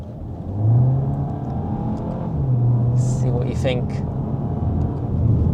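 A 2026 Skoda Octavia vRS engine revs and pulls hard in second gear approaching a hill, its pitch climbing and dropping as it accelerates, with someone talking briefly over it.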